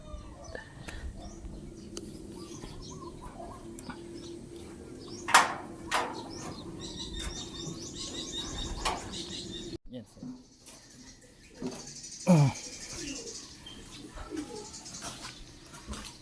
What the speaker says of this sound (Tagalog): para hindi masyadong may istorbo yung mga ibon sa taas